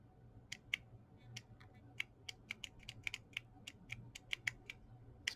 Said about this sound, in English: you can hear me clicking it, pushing it